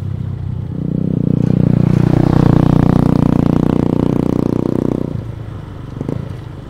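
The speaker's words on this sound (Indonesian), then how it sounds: "Ini ada motor lewat, kita kasih jalan dulu." A motorcycle passes close by on a narrow road through rice fields near Canggu, Bali, its engine rising to a loud, rough drone for several seconds before fading away, with no talk over it.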